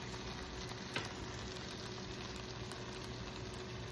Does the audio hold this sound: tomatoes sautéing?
yes